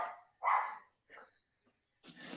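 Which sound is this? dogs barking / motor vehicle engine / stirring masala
dogs barking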